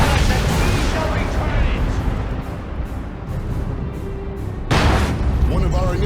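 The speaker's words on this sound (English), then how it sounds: "Getting blown up by a friggin' Vanquisher cannon" Boom of a Vanquisher cannon from an Imperial Guard tank in the Warhammer 40k strategy game Dawn of War 2 Retribution. A heavy explosive thud strikes near the end of a noisy battle, over continuous combat din and someone talking.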